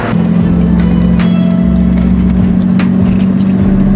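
Turbocharged car engine with a Godzilla Raceworks TL70 6-speed transmission swapped in place of the L28 gearbox, heard while driving: a steady loud drone with a low rumble throughout, recorded close inside the car.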